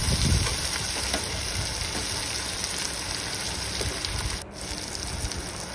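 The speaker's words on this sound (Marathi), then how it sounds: "त्यामध्ये बारीक चिरलेला टोमॅटो घालून घेणार आहोत आणि पुन्हा एकदा सर्व साहित्य परतवून घेणार आहोत।" Finely chopped tomato and other ingredients sautéing in a pan, a dense continuous sizzle and crackle that holds steady throughout, with a brief dip near the end.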